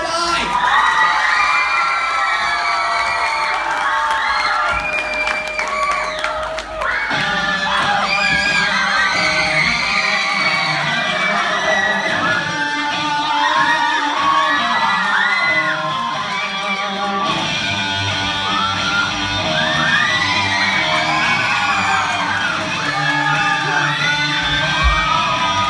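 A large outdoor crowd at the Rock the South 2018 country music festival roars with sustained cheering, whoops and yells, loud and continuous throughout with no break in the noise.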